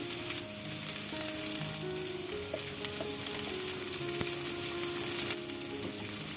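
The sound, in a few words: cauliflower frying, chopped garlic added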